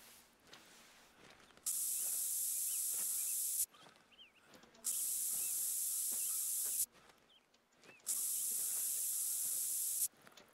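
Three long, loud hissing bursts from a spray can in the hunting game theHunter: Call of the Wild, each lasting about two seconds, separated by quiet gaps with faint forest ambience and distant bird calls.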